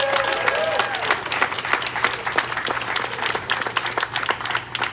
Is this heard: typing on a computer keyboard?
no